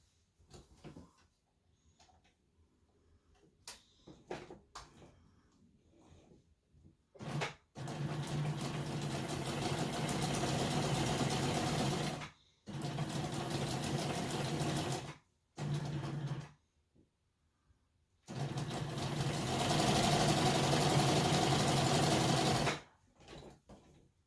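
A sewing machine stitches through a quilt-as-you-go mug rug in long steady runs of several seconds each, loud and close. Short pauses and scattered fabric-handling clicks fall between the runs, with no voice.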